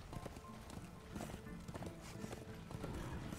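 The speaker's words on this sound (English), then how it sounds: "My horsey." Galloping horse hooves in the video game Darksiders 2, a steady rapid clip-clop rhythm running close and fairly loud throughout, with dense game sound around it.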